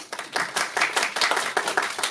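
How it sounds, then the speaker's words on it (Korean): An audience at a short-film screening Q&A claps, a dense steady round of applause from many hands lasting a couple of seconds at moderate distance. "박수 한번"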